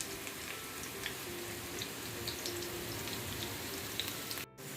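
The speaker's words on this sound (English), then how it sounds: "Now, time to fry our potato for the curry." Potatoes frying in hot oil for lamb curry, a dense, steady crackling sizzle with small pops, close and continuous with no talk.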